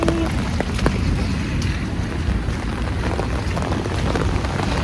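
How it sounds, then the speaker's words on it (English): Steady rain on a rainy day, a dense continuous wash of patter close by, with faint wind noise and no voices. "it's such a rainy day"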